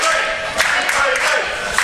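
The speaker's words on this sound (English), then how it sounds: "The crowd are behind Big Wavy." Wrestling event crowd cheering and clapping for a wrestler called Big Wavy, a dense roar of voices with scattered claps, loud and continuous throughout.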